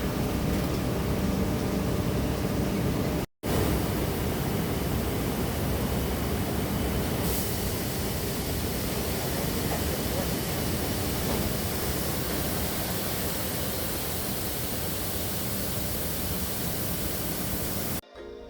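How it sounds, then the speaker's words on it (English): A sugar mill centrifugal spinning at high speed to separate molasses from raw sugar crystals, giving a loud, dense, unbroken industrial roar with a brief cut early on. "This machine separates the molasses from the sugar crystals by using a high-speed force"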